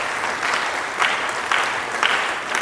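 A large conference audience at a town-and-gown roundtable applauds steadily, a dense wash of clapping with a few louder swells, heard alone without talk.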